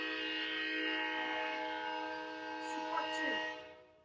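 A train whistle blows in one long, steady, harmonic-rich blast that fades at the end, heard alone and fairly close.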